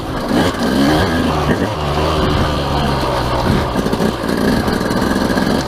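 A 200 cc dirt bike rides through wooded terrain in second gear, its engine droning loudly and continuously up close with small surges in revs and no talking.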